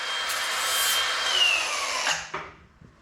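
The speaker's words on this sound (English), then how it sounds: "we've got a little nub in there we need to grind down" Steady high-pitched grinding on a weld nub during rust repair on a 1974 Ford Bronco, a continuous power-tool whine for about two seconds that winds down and stops, leaving faint shop noise.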